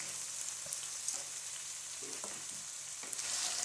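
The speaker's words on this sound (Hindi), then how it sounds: "बस हम इन्हें हल्का सा फ्राई करेंगे।" Chopped bell pepper, cabbage and carrot frying in a pan for pasta, a faint, steady hiss of sizzling oil with a few soft stirring knocks, heard on its own.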